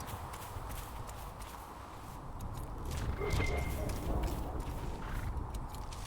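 Goat hooves clip-clopping in the video game Dragon Age: Inquisition, a steady run of hoof taps over an ambient game background, growing a bit louder midway.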